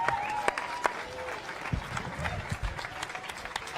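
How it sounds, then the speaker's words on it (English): Applause from an audience at a CrossFit Open announcement event, a steady wash of clapping with a few sharp louder claps, mixed with crowd noise and some voices underneath. "Big round of applause for Vegas resident"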